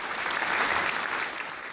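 Brief burst of steady applause from a few people, even and sustained for under two seconds with no voices over it.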